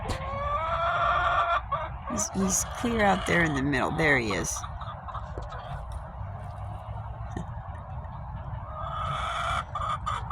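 Backyard chickens cluck nearby while one bird lets out a drawn-out, wavering crow in the middle stretch; a person talks over the birds throughout.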